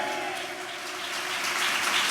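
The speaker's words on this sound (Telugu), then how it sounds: "చప్పట్లు కొట్టండి గట్టిగా" A church congregation clapping hands loudly, a dense continuous patter of many hands in a room, steady for about two seconds without talk.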